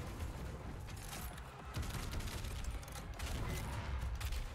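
Shotgun fire and combat in DOOM Eternal: dense, continuous battle noise with repeated heavy blasts and rumbling booms, loud and busy throughout with no clear gaps.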